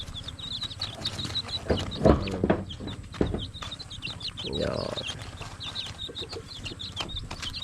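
Chickens cluck and chatter nearby, with a few louder squawks and a rising call midway, over a low background hum.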